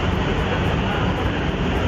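Steady rumble and rushing noise inside a moving MRT mass transit train, a constant broadband roar with no clear breaks, loud and continuous throughout.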